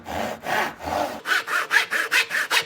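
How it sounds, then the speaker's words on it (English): A hand saw cuts a small wooden corner joint with nine close, rhythmic rasping strokes, the first three slower and deeper, then quicker, brighter strokes as the cut settles in. "just following that line across, keeping my saw at that angle"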